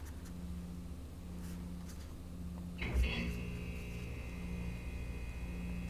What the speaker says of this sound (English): There's our little compressor buddy kicking in with us.